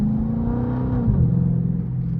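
A Chrysler 300 Hemi V8 at light quarter throttle, heard from inside on a winter night drive: a steady low rumble with a brief dip in pitch as the engine note shifts, no voices.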